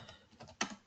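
Typing on a computer keyboard during general ledger data entry: a few soft, quick keystrokes, faint and close, ending with one sharper key press and no talking.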